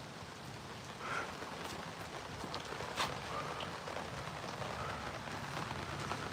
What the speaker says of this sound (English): Starting to rain, guys.